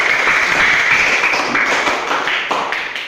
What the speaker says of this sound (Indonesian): silakan supaya lebih semangat berikan tepuk tangan bagi kita semua